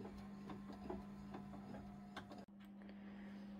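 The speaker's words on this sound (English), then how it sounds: "it's going to stitch the guideline showing me where to place the yellow fabric" An embroidery machine stitches a placement guideline for an appliqué quilt block, a steady mechanical hum with quick rhythmic ticking of the needle that stops briefly partway, quiet and close.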